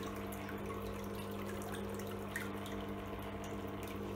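Cooling water runs through the tube of a Chinese CO2 laser cutter during a tube change, a steady soft trickling flow over a constant pump hum, close and continuous without speech.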